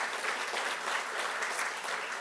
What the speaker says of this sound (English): Give that leader a round of applause, Joanne, for what she did.